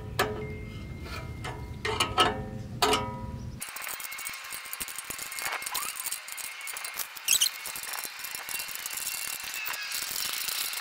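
A ratchet wrench clicks rapidly while tightening self-tightening bolts on a new Rugged Ridge bumper for a 2020 Jeep JL, bursts of close metallic ratcheting with brief pauses and tool clatter.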